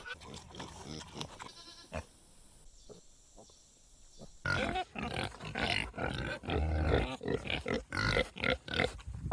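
Pigs grunt and snort repeatedly at close range, loud bursts of farm-animal noise coming thick and fast after a quieter opening stretch.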